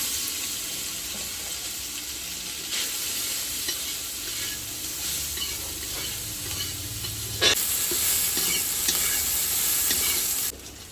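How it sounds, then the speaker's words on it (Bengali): Soybean chunks fry in hot oil for soybean pulao, giving a continuous loud crackling sizzle with stirring clatter, swelling briefly before dropping away at the end. "ওই তেলে সোয়াবিনটা ভেজে নিচ্ছি"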